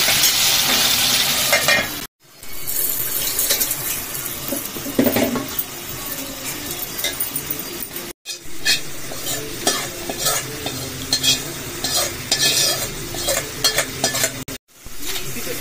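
Eggplant pieces cook in oil in a pan with a loud, steady sizzle and the rough scrape of stirring, broken by a few short silent cuts.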